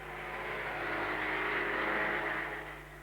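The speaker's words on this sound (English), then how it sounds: "The sheer speed and noise of the German cars stuns the British spectators" A 1930s German Grand Prix racing car, a Mercedes or Auto Union, roars past with a loud, steady engine drone that swells and then eases slightly, heard alone without voices.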